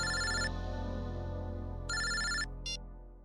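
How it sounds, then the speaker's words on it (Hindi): A telephone ringtone plays in loud, bright electronic bursts: a long ring, a pause with a lingering tone, a second ring and a short final blip, heard alone with no talk. "एयरपोर्ट से फोन था।"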